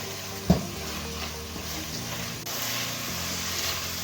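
Onions with salt sauté in a pan for beef curry, a soft continuous sizzle with one sharp knock of the spoon near the start.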